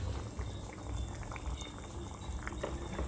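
Thai wild curry with beef offal simmering in a pot, a steady low bubbling and gentle popping of liquid heard close and faint without pause.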